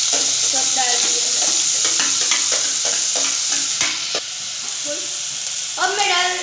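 Vegetables added to a hot pan and stir-fried, with a steady loud sizzle and repeated stirring scrapes throughout. A voice briefly surfaces near the end.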